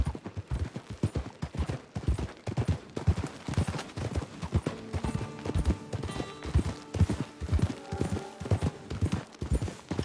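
Horse hooves in Red Dead Redemption 2 clip-clop in a steady, rhythmic beat, close and loud and continuing throughout, with faint music-like tones underneath.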